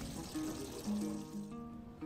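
Yatimcheh, a Persian vegetarian dish, sizzles in hot oil in a pan, giving a low, steady frying hiss with faint tonal hum throughout, and no one talks over it.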